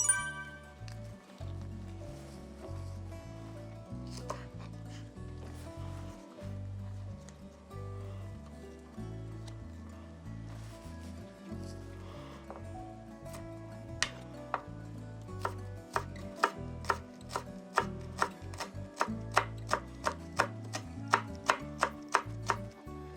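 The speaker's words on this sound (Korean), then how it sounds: "대파는 반으로 가른 뒤 안쪽에 두꺼운 심을 제거해 주시고 얇게 채 썰어 주세요" A knife cuts spring onion into thin strips on a board. Quiet, irregular cuts at first give way to a fast, regular run of crisp, close chops that grow louder toward the end.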